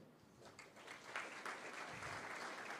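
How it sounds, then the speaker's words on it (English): Audience applause at a National Heroes Day awards ceremony as a posthumous award is accepted by a family member; steady, moderately distant clapping that swells slightly midway and holds through to the end. "Nice applause there for Captain Arlen Royston Tatum, and his son"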